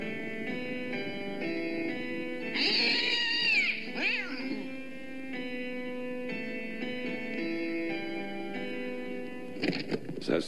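A cat gives a drawn-out meow in the middle of steady background music, in the French version of Tim Burton's animated short Vincent.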